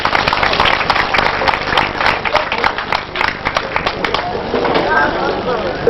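An audience at a Lagos State rural development week celebration applauds in a loud, continuous wash of clapping, with some voices mixed in and the sound thinning toward the end.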